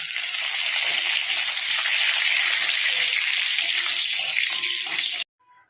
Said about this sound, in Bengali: কড়াইতে জিরে আর তেজপাতা ফোড়ন দেব।